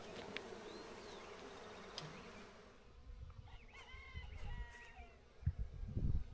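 A swarm of bees buzzes in a dense, steady drone on a farm, fairly close for the first few seconds before fading under other farmyard noises and faint chirps.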